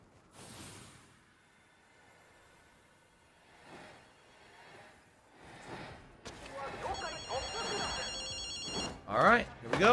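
A payphone rings in a video game, a bright repeating electronic bell near the end of the stretch, following softer game sounds and movement effects.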